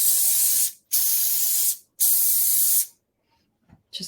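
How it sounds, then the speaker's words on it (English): Three long hissing bursts from an aerosol can of fixative sprayed onto a handmade postcard, each under a second, close and loud, followed by quiet and a faint rustle. "a little spray."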